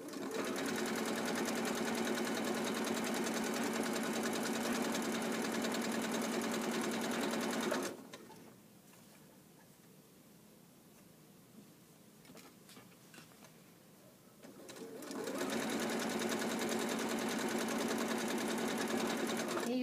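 A sewing machine runs steadily while stitching a hem on a pair of shorts, with the presser foot guided along the folded fabric edge. It whirs loud and continuous, pauses for several seconds, then starts up again at the same pace.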